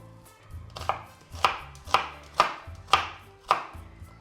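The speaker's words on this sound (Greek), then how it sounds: "Ετοιμάζουμε το κρεμμύδι, ψιλοκόβοντας το." A knife finely chops onion steadily on a cutting board, about seven firm, evenly spaced strokes landing close and loud, with no talking.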